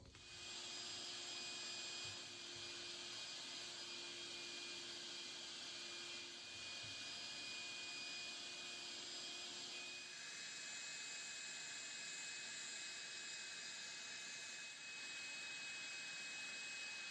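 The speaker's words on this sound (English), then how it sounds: "I am going to vacuum out the cab a little bit." A vacuum cleaner runs steadily inside the cab of a dump truck, a continuous close whining roar with a slight shift in tone partway through, no talking.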